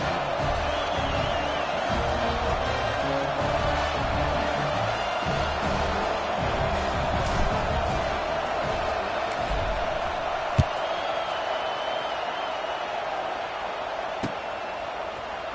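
Football stadium crowd at a Florida–LSU game after a scoring drive, a subdued steady murmur with scattered shouts and occasional thuds, fairly distant.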